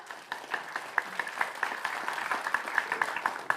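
Scattered clapping from a debate audience at a 2020 Cilegon mayoral candidates' event, a fairly quiet, thin patter of hands lasting a few seconds without talk.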